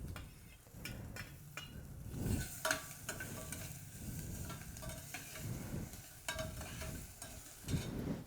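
Vegetables sizzle softly in a pan while a utensil stirs and taps against it now and then, a faint, steady frying sound punctuated by sharp clicks.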